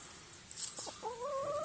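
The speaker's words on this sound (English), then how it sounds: "This is the rooster wanting to have a fight." A rooster gives a brief, fairly close, aggressive call with a rising, drawn-out tone over a quiet, faintly hissing background.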